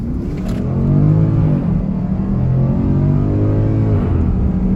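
Porsche Cayenne GTS exhaust revving loudly up and down, a deep continuous engine note that rises and falls in pitch, close and alone with no talk.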